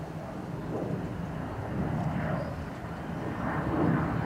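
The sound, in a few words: Ryanair jet departing Dublin Airport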